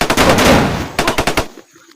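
Rapid bursts of gunfire, a loud automatic volley followed by several separate sharp shots, close and echoing before fading out.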